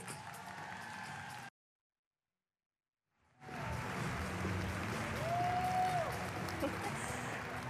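Audience applause at a conference opening keynote in Indianapolis greets the incoming society president; a brief burst stops, then after a silent gap a sustained, steady wash of clapping swells and carries on with some crowd noise.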